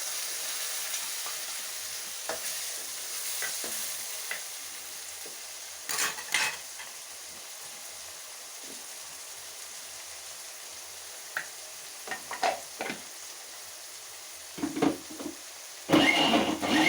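Onions sautéing in a pan for wedding-style vatha kuzhambu, with ground tomato paste added. A soft, steady sizzle runs throughout, broken by occasional utensil clinks and a louder clatter near the end.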